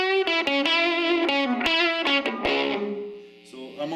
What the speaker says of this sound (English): let's see if we can get some loud distortion or quiet distortion with my pedal on